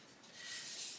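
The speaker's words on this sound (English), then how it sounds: "if you do get the blue pastel where you don't want it, you can erase it" Soft, quiet rubbing of an eraser over blue soft pastel on paper, one short continuous scrubbing stroke that swells slightly, heard close and alone.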